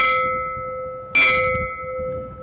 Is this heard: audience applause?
no